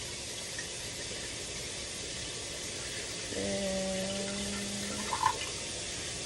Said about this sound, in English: we're gonna fill this up halfway with water